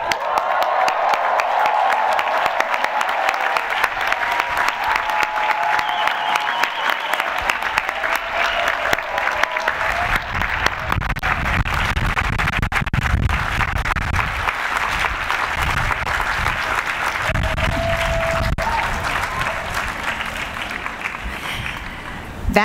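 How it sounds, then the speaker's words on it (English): A huge, sustained round of applause from a hall full of standing 2022 MBA and doctoral graduates turning to face their supporters: dense clapping with scattered cheers and whoops, loud and unbroken for over twenty seconds. "thank them with a huge round of applause"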